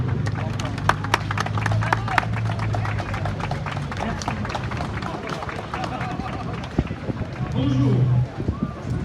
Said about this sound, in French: Applaudissons-le.